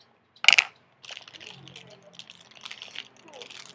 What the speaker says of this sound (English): let's get this open. I'm using my scissors